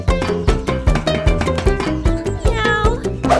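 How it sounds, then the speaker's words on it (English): A cartoon cat in a kids' animated show meows over a bouncy, plucked musical backing, with the short cries repeating close and loud among the rhythmic notes. "Meow."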